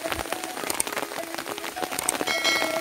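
Rain patters onto an umbrella and the surroundings during an outdoor fishing trip for betok (climbing perch), a close, continuous drumming spattered with sharper individual drops.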